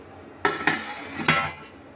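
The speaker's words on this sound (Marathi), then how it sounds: "आता वरतून ना ताटली ठेवून घ्यायची" A metal plate clanks down onto a pot of steaming colocasia leaf rolls as a lid, three quick metallic knocks close by as it settles into place.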